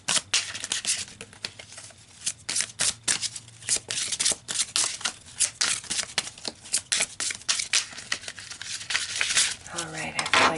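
Tarot cards are shuffled by hand close up, giving repeated quick riffling and flicking sounds in an irregular rhythm, with no talking over them.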